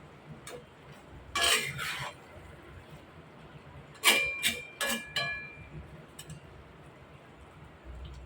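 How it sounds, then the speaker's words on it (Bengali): Potatoes cooking with fish roe are gently stirred in a pan, giving a few separated metallic scrapes and clinks of a spatula against the pan over quiet background. "এ পর্যায়ে আলতোভাবে এভাবে নেড়ে দিতে হবে"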